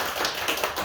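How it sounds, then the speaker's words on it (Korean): A church congregation applauds its choir during a Sunday service, a brief patter of clapping hands close by and steady, with no voices over it. "박수 한번 쳐드릴까요?"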